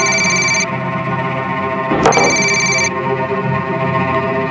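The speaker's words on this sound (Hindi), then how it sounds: "तभी पक्या का फोन आया साहब मुझे।" A telephone bell rings loudly in repeated bursts, a close, steady electronic trill with a brief clatter in the middle and no voices.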